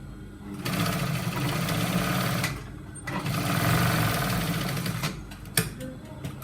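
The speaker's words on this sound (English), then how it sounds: "you're going to make a stitch." Sewing machine running in steady bursts as it stitches a trouser seam, with a loud continuous whirring for about two seconds, a short pause, then another longer run, ending in a sharp click.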